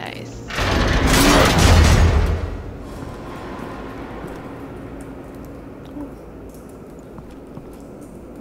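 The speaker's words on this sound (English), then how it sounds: "A normal bullet couldn't have caused that explosion." An explosion in the game Batman: The Telltale Series, a loud, close roaring blast that swells for about two seconds, then fades into a long, quieter rumbling tail.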